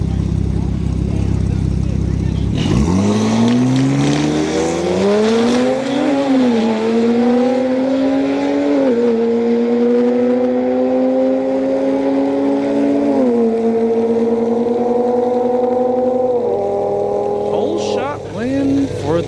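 BMW and Audi street cars launch side by side in a drag race at Orlando Speed World, engines revving hard and climbing through gear changes in a loud, sustained roar, with crowd noise underneath.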